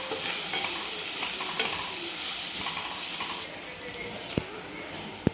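Potato and pea samosa filling is stirred and sautéed in a pan, giving a steady sizzle with soft scraping strokes and a couple of sharp clinks near the end, with no talking.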